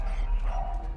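A dog in the video game Fallout 4 gives a short, quiet bark-like yelp, a single brief sound that lasts about a second.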